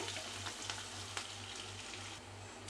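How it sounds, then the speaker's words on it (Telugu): Onions frying in oil in a pan with curry leaves and green chillies, a steady close sizzle with faint crackles throughout and no voices. "ఉల్లిపాయల్ని బాగా మంచి కలర్ వచ్చే వరకు ఫ్రై చేసుకోవాలి"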